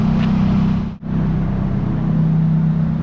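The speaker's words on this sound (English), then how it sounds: "As you can hear, it's still misfiring" Turbocharged KA24DE engine in a 240SX drift car running close by with a steady low drone and an uneven, stumbling misfire, broken by one brief dropout near the start.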